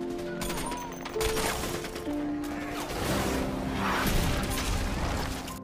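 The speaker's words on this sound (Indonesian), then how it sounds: "Mereka langsung meluncurkan basokannya ke arah Mayor Oren dan timnya." A bazooka fired at soldiers amid movie gunfire, with loud overlapping blasts, crashes and rattling shots forming a dense, chaotic battle barrage that swells toward the end.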